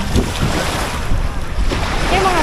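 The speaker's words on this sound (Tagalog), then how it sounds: "Yung mga bangka. Madaming mga bangka." Boats on the sea beside a beach in Tanza, Cavite, heard amid rolling waves and strong wind buffeting the microphone, a rough continuous seaside roar with a faint motor-like tone near the end.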